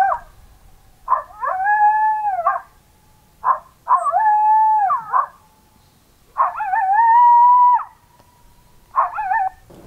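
A louder setting on an electronic predator call sounds a male coyote howl: repeated sustained howls with sharp yelping onsets, clear and strong, in a rhythmic series of about five calls with short gaps.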